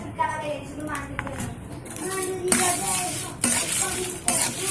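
Dry spices such as bay leaf and dried red chilli being lightly fried in a pan for fuchka masala, with soft sizzling, stirring scrapes and sharp utensil knocks against the pan, and a voice in the background.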